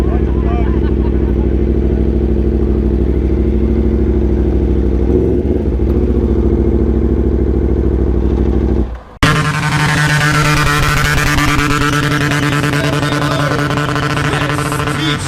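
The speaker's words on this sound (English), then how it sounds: "right now you can see him out here riding his brand new BMW F1000RR. Getting sideways." BMW sport motorcycle revving hard during a stunt show: loud, continuous high-revving engine drone that briefly dips near nine seconds and then surges back louder and harsher, with an announcer talking over it.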